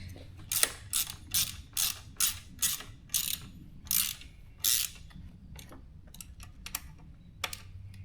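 A ratchet clicks in a row of quick, close, crisp bursts while parts come off a wrecked dirt bike with a bent frame, then slows to scattered lighter clicks, with no one speaking.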